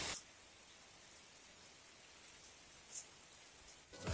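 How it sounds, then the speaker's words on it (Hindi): Rain falling outside during bad weather, a soft, steady hiss of drops on surfaces, faint and even throughout with brief louder bumps at the start and end. "बाहर का मौसम बहुत ख़राब है और बारिश हो रही है यहाँ पे"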